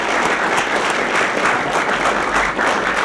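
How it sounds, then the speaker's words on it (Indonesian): An audience claps steadily for Dicky at a lively Indonesian talk show, a dense, even wash of applause lasting the whole short stretch with no voices over it. "Tepuk tangan untuk Diki."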